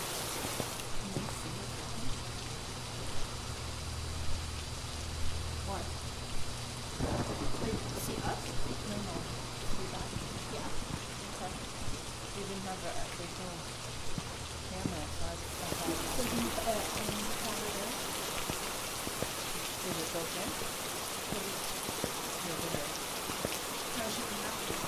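Steady rain falls in the horror video game Phasmophobia, a constant hiss of drops with a low rumble partway through. A player talks over it now and then.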